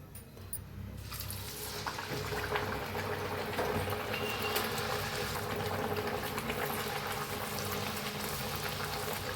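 A puri deep-fries in hot oil, giving a dense, continuous bubbling hiss that holds steady at close range after a brief quieter start, with nobody talking.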